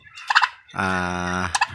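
A young turkey poult gobbles loudly and close by: a short burst of gobbling calls, then a long sustained harmonic call, then another quick gobble.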